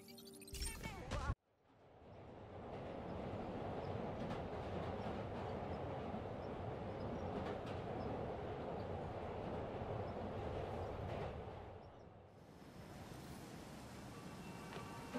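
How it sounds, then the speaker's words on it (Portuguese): A train ride in a Spider-Man video game gives a steady, quiet rolling rumble of rail wheels and carriage noise for most of the stretch, after a short sharp burst at the start, with a brief dip near the end. "eita trem bom"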